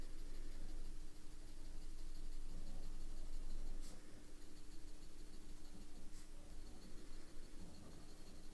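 A medium-nib fountain pen scribbling on paper, a continuous close scratchy rasp with a few faint taps, heard alone.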